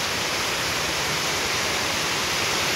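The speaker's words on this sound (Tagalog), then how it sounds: "hangin na may ulan." Heavy wind-driven rain beating steadily on a tarp-covered shelter, a dense, continuous roaring wash of sound with no letup and no voices.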